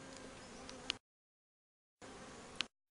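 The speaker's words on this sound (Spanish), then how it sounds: "Las abejas entran por esa piquera, suben a la cámara" Honey bees buzz steadily at a hive entrance fitted with a pollen trap, a faint continuous drone heard in two short separate stretches with silence between.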